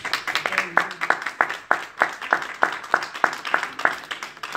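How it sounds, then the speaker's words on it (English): A church congregation claps in a steady, even rhythm of about four claps per second, loud and close, with voices mixed in among the clapping. "Give the Lord a hand clap."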